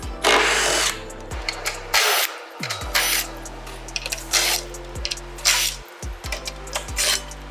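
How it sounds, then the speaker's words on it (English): A power tool with a 13mm socket removes the exhaust brace from a BMW G8X M3/M4, running in short, loud bursts of whirring and rattling with brief pauses between them, close up and without voices. "Grab a 13mm socket and let's get this off."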